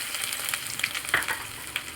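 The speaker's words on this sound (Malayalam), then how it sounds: "ചീനച്ചട്ടി അടുപ്പിൽ വെച്ച് വെളിച്ചെണ്ണ ഒഴിച്ച് എണ്ണ നന്നായിട്ട് തിളച്ച് വരുമ്പം കടുകിട്ട് പൊട്ടിക്കുക" Mustard seeds spluttering in hot coconut oil in a pan, a soft sizzle broken by scattered sharp pops and crackles at irregular intervals, close and fairly quiet.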